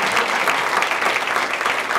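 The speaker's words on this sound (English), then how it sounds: "Y'all give her another round of applause" A seminar audience gives a speaker another round of applause, a loud and sustained burst of many people clapping at once.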